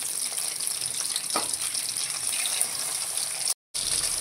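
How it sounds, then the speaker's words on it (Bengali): Bata fish fry in mustard oil in a pan as they are flipped, giving a steady, loud, close hissing sizzle that breaks off briefly near the end and then resumes, with no voices. "এবার মাছগুলোকে উল্টে দেবো।"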